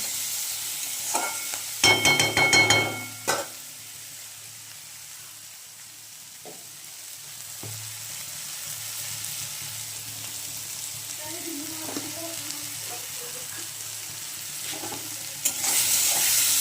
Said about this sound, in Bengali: এবার আমি বেগুন, পেঁয়াজ আর একটা কাঁচা লঙ্কা দিয়ে মাছের তেলটা ভেজে নেব